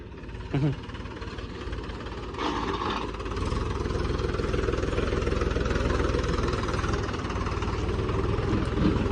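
A tractor engine runs with a steady, fairly loud low rumble throughout, rising slightly after the first couple of seconds, with brief faint voices in the background.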